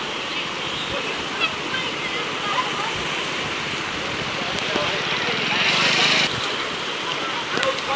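Rushing floodwater during a severe flood in Gopalganj, Bihar, a steady broadband roar of churning water that swells briefly near the end, with faint voices underneath.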